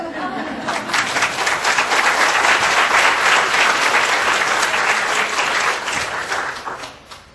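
Applause after a presentation skills lecture by Bill Corbett: a full room claps loudly and steadily for about six seconds with some chatter mixed in, then fades out.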